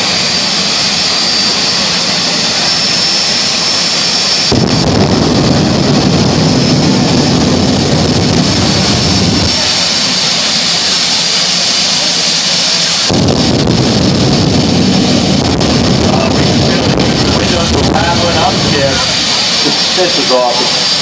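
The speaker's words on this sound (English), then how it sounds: "Jet dragster, round number one again." A jet dragster roars at a raceway drag race, its thunderous blast surging in two long loud bursts over a constant rumble, with voices talking through it.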